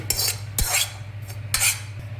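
A metal spoon scrapes and clinks against a pan as roasted grated coconut is scooped into a dish for a wood-stove mutton curry, giving three sharp scraping strokes over a low steady hum, with no talking.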